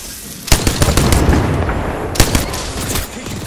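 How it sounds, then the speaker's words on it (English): Loud automatic gunfire from the video game Apex Legends comes in two long, rapid bursts, each starting with a sharp crack and ending in dense, rattling shots with no talk over them. "Getting shot at. Opening fire."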